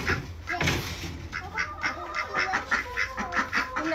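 A duck quacks repeatedly in a rapid, rhythmic series of nasal calls, close and clear, after a brief thud at the start.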